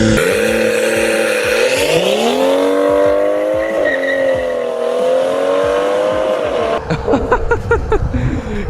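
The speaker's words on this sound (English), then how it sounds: "do you want to do a launch control here?" A modified BMW 340i M Sport launches hard with launch control, its engine roaring up through rising revs from close inside the cabin, then a quick gear shift and rough, crackling exhaust pops at the end.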